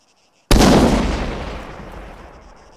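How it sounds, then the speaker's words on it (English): A single loud hand grenade explosion in the military video game Arma 3 bursts abruptly after a brief silence, then its rumbling roar decays over the next two seconds. "let's get all dramatic and start throwing hand grenades into this place"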